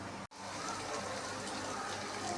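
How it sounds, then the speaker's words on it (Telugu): After a brief gap, water pours in a steady gushing stream into a pot of drumstick and tomato curry, continuous and even until the end. "కొంచెం వాటర్ పోస్తున్నా"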